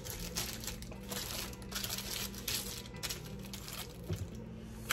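Parchment paper crinkles as a slab of low-carb Twix is lifted out of its baking pan, giving quiet, repeated rustling bursts over a faint steady hum.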